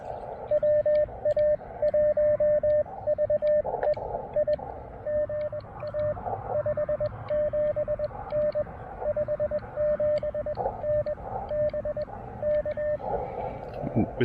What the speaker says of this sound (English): You hear all the signals going up and down a bunch.